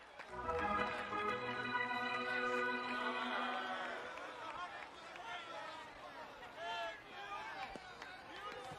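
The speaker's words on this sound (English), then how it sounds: "listen to the roar of the crowd as the Indians take the field" A baseball stadium crowd roars as the Cleveland Indians take the field, a broad sustained swell of cheering and babble with scattered shouts, fading somewhat toward the end.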